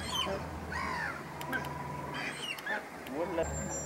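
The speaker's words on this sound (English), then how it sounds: "Flamingos." Flamingos call at a wetland wildfowl reserve with repeated nasal, goose-like honks in short bursts. The calls come from a flock at moderate distance over a steady background hum, and faint talk can be heard beneath them.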